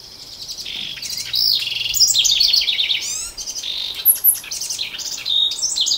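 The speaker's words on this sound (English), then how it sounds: "this little bird insists on tweeting" A small bird in the wild at Grand Teton National Park tweets repeatedly in bright, rapid chirps close by, with bursts of song over steady outdoor background noise.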